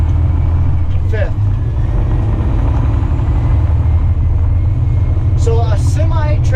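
Semi truck engine rumbles steadily and loud throughout as the driver shifts up into fifth gear, with someone talking briefly over the low drone near the start and again near the end.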